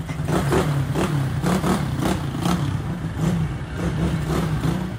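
Mid-pitched motorcycle engine hums and revs steadily while riding through congested Caribbean street traffic, close and loud, with clattering and surrounding vehicle noise over the whole stretch.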